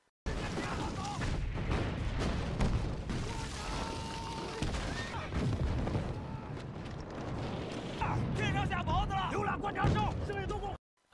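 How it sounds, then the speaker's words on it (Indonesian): Artillery barrage in a war film set during the Chinese civil war, with dense, continuous rumbling blasts and booms over a mine setting, loud and sustained throughout, mixed with shouting voices and a film soundtrack. "Namun tiba-tiba saja serbuan artileri nasionalis menghamburkan mereka semua."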